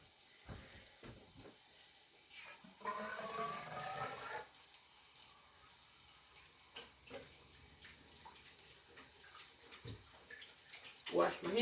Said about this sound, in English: Wash my hands up a little bit.